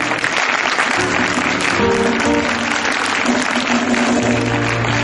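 Congregation clapping at a Sunday church service, a busy sustained patter of many hands, with sustained tones from music or voices running beneath it.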